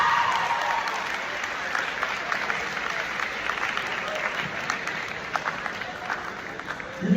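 School audience applauding for the junior class president, a steady crowd clapping at moderate loudness, with cheers and voices mixed in throughout.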